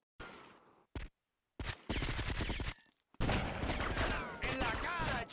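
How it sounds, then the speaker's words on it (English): Sniper rifle fire in the video game GTA Vice City: loud, sharp gunshot bursts separated by short silences, mixed with game effects and voices. "grab the sniper rifle and take down the sniper"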